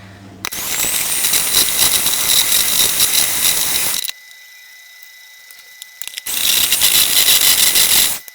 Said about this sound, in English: I'm just going to be beating this on start slow and slowly work up the speed up to a medium high